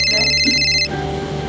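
A telephone rings with an incoming call, a bright electronic ringtone of steady repeating tones that plays loudly for under a second and then cuts off abruptly, leaving a low hum.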